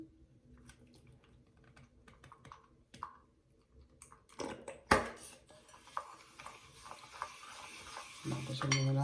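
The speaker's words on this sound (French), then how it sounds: "je mélange donc pour 40 grammes mon huile de coco" Coconut oil, 40 grams, being stirred into a homemade body scrub mixture, with soft scraping and tapping of a utensil against a bowl in irregular bursts, close by and fairly quiet, a few sharper knocks along the way.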